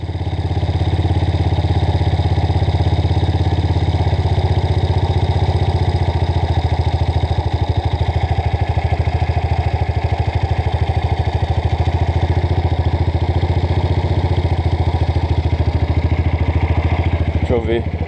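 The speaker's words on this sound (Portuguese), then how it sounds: "A moto tá muito acelerada." Honda CRF 230 dirt bike engine running at a high idle, a loud, steady, close droning hum with a fast regular pulse that holds nearly constant throughout.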